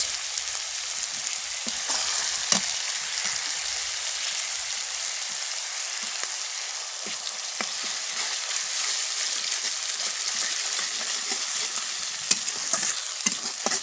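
Ginger garlic paste fries with onions in a pan for a prawn curry, a steady bright sizzle with occasional stirring scrapes and clinks, close and continuous with no talking.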